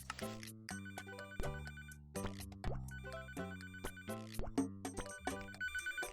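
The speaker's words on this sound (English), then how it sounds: "Phone." A telephone in Papa's Freezeria Deluxe rings as a repeating electronic melody of bright, plucked tones in short bursts, clear and alone for several seconds.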